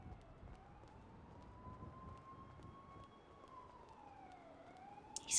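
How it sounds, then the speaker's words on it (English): Police sirens wail faintly and far off in a video game roleplay, the tone rising and falling slowly under a steady noisy bed, with a brief sharp burst at the very end. "These fucking sirens."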